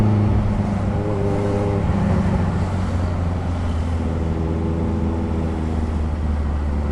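A Honda CB650F motorcycle creeps through a traffic jam, its engine humming in a steady low drone with faint rising revs over the surrounding road noise, continuous throughout with no voices.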